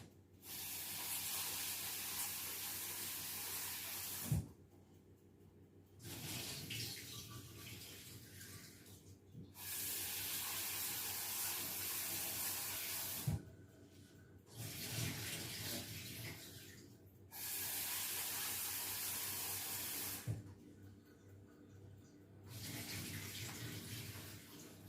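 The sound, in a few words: tap water washing rice for Iranian sabzi polo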